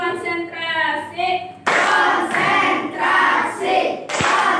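A class of schoolchildren does a rhythmic concentration clap routine, chanting voices followed by a sudden loud wave of group clapping in uneven bursts, with children's voices mixed in.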